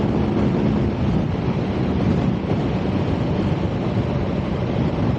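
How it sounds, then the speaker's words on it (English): Heavy, continuous wind roar buffets the microphone while riding a BMW R nineT Scrambler motorcycle at speed, loud and steady throughout with no break. "Bit of wind blast now"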